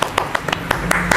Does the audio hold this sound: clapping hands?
yes